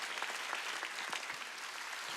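Congregation in a Korean church clapping together during a Wednesday worship service, a steady dense patter of hands with a rhythmic pulse, fairly distant and uniform.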